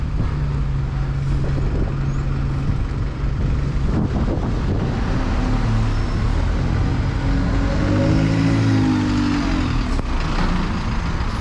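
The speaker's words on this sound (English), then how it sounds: "Here's one of their E200s, which is probably the most common bus in their fleet." Stevenson's of Essex Alexander Dennis E200 single-deck bus idling and rumbling nearby with a low diesel drone, wind buffeting the microphone and a rising engine note toward the end.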